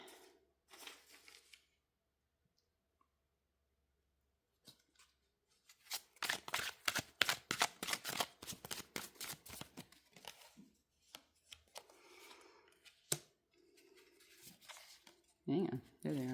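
Tarot cards being shuffled and laid out for a reading, giving a run of quick dense rustles and slaps in the middle, then scattered single card snaps, with a person talking before and after.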